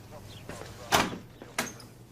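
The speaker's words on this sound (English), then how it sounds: "And close the door." A door shuts with a firm thud inside a police station office, followed moments later by a second sharp knock, heard up close with a faint background hum and light talk nearby.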